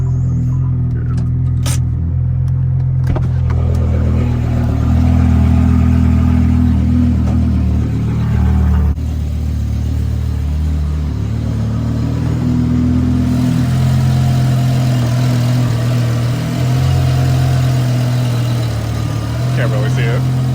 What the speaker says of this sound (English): every morning with a cold start, it makes that big squealing noise